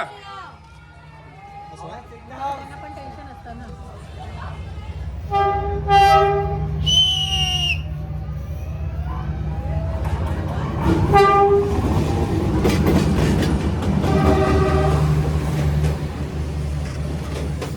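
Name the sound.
train passing on Hanoi Train Street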